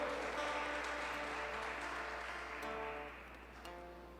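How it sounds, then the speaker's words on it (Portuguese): Church congregation applauds during a service, a broad, steady wash of clapping over a low hum and sustained musical tones, gradually softening toward the end. "dê um aplauso ao Senhor Jesus essa noite"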